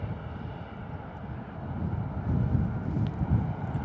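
An EasyJet airliner departs Bristol Airport, its engine rumble steady and moderately distant, building slightly in the second half amid wind noise on the microphone.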